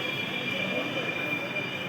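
A metro train at a crowded station gives a continuous, loud rail rumble with a high, steady wheel squeal running throughout.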